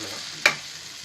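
Amla (Indian gooseberry) pickle fries in a pan with a steady, close hiss of sizzling oil, broken by one sharp scrape as it is stirred.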